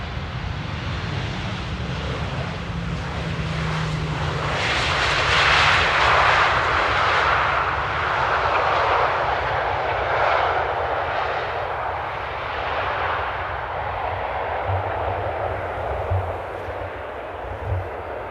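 A jet airliner arriving in a crosswind at Amsterdam airport, its engine roar swelling loud and broad as it passes close, with wind buffeting the microphone and a steady rumble that fades slowly.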